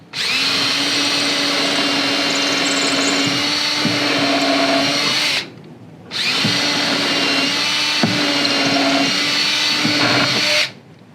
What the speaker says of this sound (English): both of those holes are going to get pre-drilled with a 9/64 drill